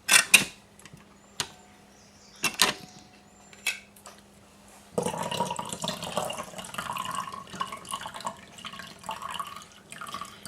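Salty liquid from canned corn and green beans drains away, first a few sharp drips and clinks, then a steady close pour that runs for several seconds, with no talk.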